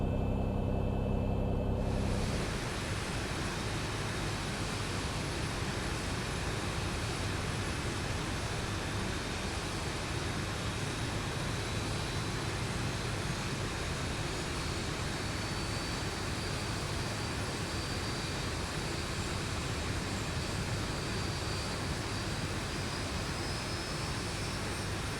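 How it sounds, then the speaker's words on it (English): Engine number one of an airliner starting up in the X-Plane 11 flight simulator: a brief sound at first, then a loud, steady broadband roar that holds unchanged for over twenty seconds, with no voices. "we'll go ahead and start engine number 1."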